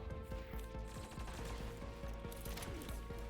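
Blaster pistol shots in the Star Wars game Dawn of Defiance, a busy run of sharp repeated bursts layered over constant game music and background noise.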